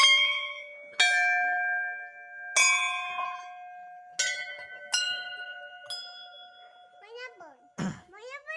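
Several temple bells in an old Mahadev temple in Konkan are struck one at a time, each ringing out with a long metallic shimmer that overlaps the next, followed by a short cough.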